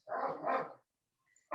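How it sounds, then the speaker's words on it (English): Dogs bark upstairs in a single muffled, rough burst of barking that lasts under a second, followed by near silence and a faint sound at the very end. "you can hear the dogs and Tom yelling at them upstairs."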